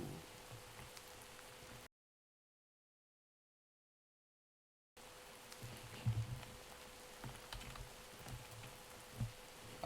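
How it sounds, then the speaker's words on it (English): Steady, soft hiss of rain falling in the Minecraft FTB Oceanblock modpack, cut by a few seconds of complete silence before the patter resumes with faint taps. "It literally just got to daytime and then started raining."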